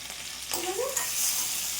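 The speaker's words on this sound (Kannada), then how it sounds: "ಇಷ್ಟು ಫ್ರೈ ಆಗಲಿ." Garlic, chili, onion and curry leaves fry in a hot pan, giving a dense close-up sizzle with a quick stir and a spatula scrape midway.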